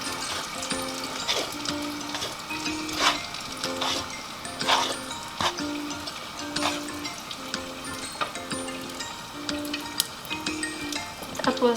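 Chicken pieces soaked in cold butter fry in hot oil, a steady sizzle with crackling pops and light scraping throughout, with faint background music tones and occasional soft voices.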